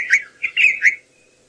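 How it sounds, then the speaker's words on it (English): Robin call played from a recording on a sunrise safari drive: a short series of about four clear, whistled chirping phrases, fairly loud and close, with no talk over them. "I'm going to play his call. The robins are quite territorial and they do like to come out and explore."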